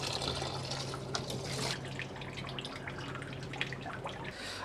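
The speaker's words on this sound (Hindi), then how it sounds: "मेरा ख़्याल है कि हमें इसको थोड़ा सा धो लेना चाहिए" Raw goat kidney rinsed under running water in a kitchen, a steady close splashing and trickling stream with small drips, no talking.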